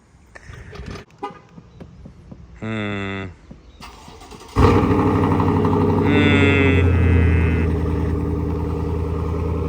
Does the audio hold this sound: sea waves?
no